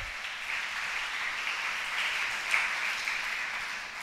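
A church congregation clapping hands together in praise, a sustained, even burst of many hands at moderate distance without speech over it.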